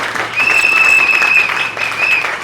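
A church congregation claps loudly and steadily for a couple of seconds, the applause swelling and then easing slightly, with a sustained organ or keyboard tone ringing through it.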